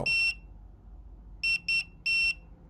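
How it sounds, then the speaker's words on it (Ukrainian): An Inkbird C216T temperature controller sounds its low-temperature alarm with high electronic beeps at a moderate level. One longer beep comes first, then a pause, then a quick pair of short beeps and a longer one. "AL це навпаки сповіщення про низьку температуру. Сповіщення не дуже гучне, близько 75 дБ."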